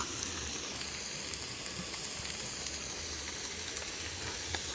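Burgers frying on a camp stove, a steady close sizzle and hiss with faint crackles running without pause and no voices over it.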